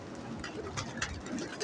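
A pigeon in a breeding setup gives soft, low coos in a few short phrases, faint and close, against quiet background noise.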